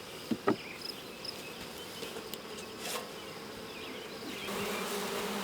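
Honey bees buzz around a hive in a soft, continuous hum, with a few louder passes close by and faint knocks of handling.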